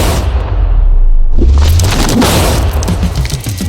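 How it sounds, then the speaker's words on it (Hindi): TNT blows up a safe in a loud, close blast, a deep booming roar that swells and then breaks into crackling debris and rumbling. "इस धमाके ने सच में मुझे डरा दिया।"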